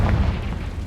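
A Confringo fire spell detonates in Hogwarts Legacy as a single loud, deep boom with a rumbling tail that stays heavy through the short burst.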